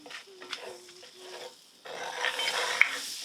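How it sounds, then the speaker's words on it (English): Pepper stirred into melted butter in a pan, light scraping strokes at first, then a fuller sizzling hiss with a sharp utensil tap near the end, no speech. "we're just going to put a little bit of pepper in there, so mix that up with your butter"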